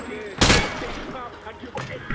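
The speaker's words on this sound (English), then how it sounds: "He sprayed bullets all over the damn place." A short loud burst of rifle fire from the hip in Call of Duty: Modern Warfare 2 cracks out near the start, followed by a quieter gap and a second shot near the end, with talking underneath.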